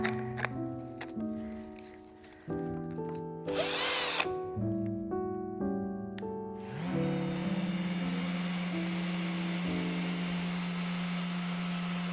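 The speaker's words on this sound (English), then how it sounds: "Let's get these legs sanded." Power sander working on the legs of a mid-century modern desk, a motor whine that steps up and down in pitch before settling into a steady, buzzing sanding hum, close and moderately loud with no talking.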